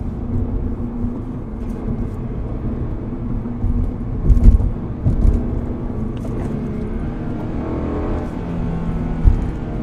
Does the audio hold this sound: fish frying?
no